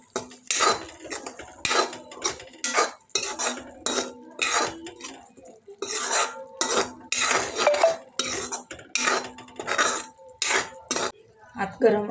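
A utensil stirs tomato masala with finely chopped coriander in a pan, a steady series of close scraping and clinking strokes that keep a brisk, slightly uneven rhythm from start to finish, with no voices.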